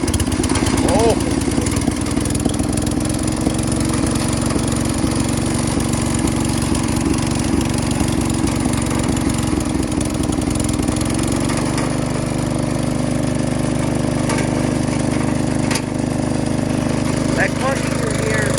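A Jacobsen Chief 1200 garden tractor engine runs steadily after a cold start at part choke. It has a loud, buzzy, mid-pitched drone that shifts slightly partway through, with speech over it.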